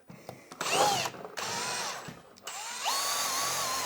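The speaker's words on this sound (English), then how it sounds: "So we're going to drill right through." Power drill with a fresh 1/2 inch metal bit boring through metal studs, in several close, loud bursts that rev up, whine and stop, with short pauses between.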